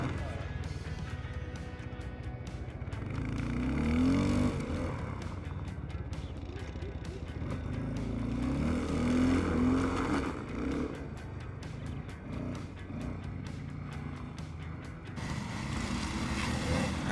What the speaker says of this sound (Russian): перед нами прототип снегохода, который совсем скоро будет запущен в серию. Он оборудован 290-кубовым 28-сильным мотором